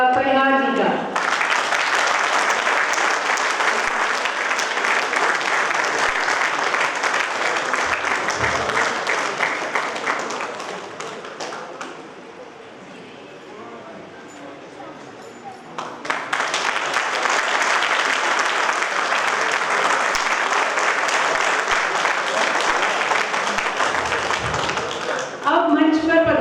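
Thunderous audience applause welcomes a poet onto the stage at a large Hindi poetry gathering, two long bursts of dense clapping separated by a quieter lull in which a voice is heard.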